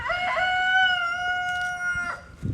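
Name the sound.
rooster crowing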